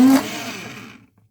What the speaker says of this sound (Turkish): Blenderdan bir geçireyim